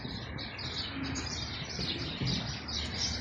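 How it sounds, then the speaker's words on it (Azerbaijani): Outdoor birds chirp and tweet in a steady twittering chorus over a city street, moderately near and fairly soft. "Quşların səsi çox qəşəngdir."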